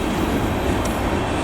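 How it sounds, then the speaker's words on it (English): A train rumbles steadily past after a snowstorm, a loud broadband roar heard up close throughout without speech. "Oh wow, nice. The train's over."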